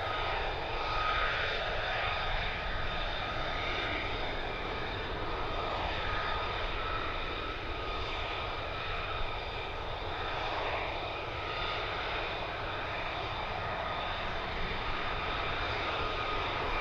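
A Lockheed Martin F-35 Lightning II's jet engine roars steadily at RAF Lakenheath in England, a loud, continuous broadband rumble with a sustained whine that holds unbroken throughout, with no voices.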